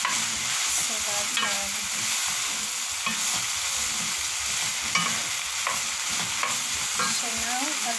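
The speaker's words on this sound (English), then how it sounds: "Cooking our grass onions. Well, I'm cooking it on a high heat" Grass onions stir-fry over high heat in a pan for a chicken and vegetable dish, giving a steady, loud sizzle with scattered scraping stirs and light clinks throughout, with no talking.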